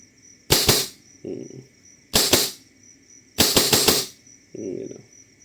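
A Novritsch SSP5 airsoft sniper rifle shoots BBs in three sharp, close snaps spaced about 1.5 seconds apart, each followed by a softer mechanical clack, over a faint steady insect-like whine in the background.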